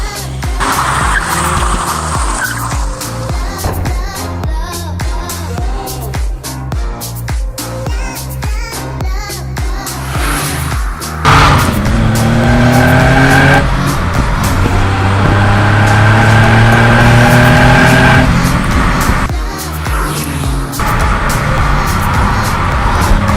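A Maserati racing car driven hard roars loudly up and down through the gears, with rising engine pitch, then long screeching tire squeals and skids as it corners near the microphone.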